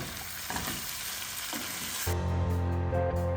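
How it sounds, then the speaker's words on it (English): Onions stirred into goat meat asun sizzle loudly in the pan for about two seconds, then a steady tonal hum with sustained pitches takes over. "So top in some onions and you stir."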